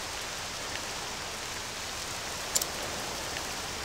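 Steady rainfall in the video game Octopath Traveler II, a soft, even hiss that holds constant throughout with a faint brief tick partway through and no voices.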